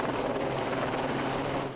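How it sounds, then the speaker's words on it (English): A firefighting helicopter works over a wildfire near houses, its rotor a steady, loud broadband thrum that fills the short stretch without a break. "Helicopters worked from above"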